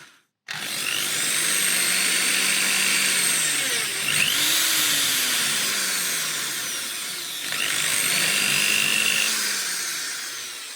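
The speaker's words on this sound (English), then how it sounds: "So this one did push off while I was drilling it" Steady power drill whine running for several seconds, pitch dipping and rising as it bites into a TRX4 LCG RC car chassis, with a brief slowdown around the middle before spinning up again.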